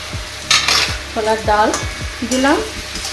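Soaked soybean chunks and chana dal go into a hot frying pan, with a low sizzle and a few scraping, sliding stirs of a utensil against the pan, close and without talk.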